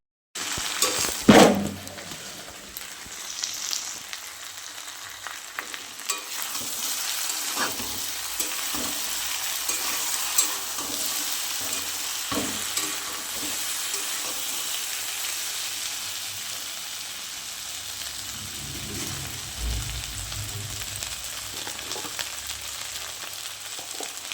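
Food frying in a pan with a constant close sizzle, a sharp clatter near the start and occasional stirring scrapes throughout.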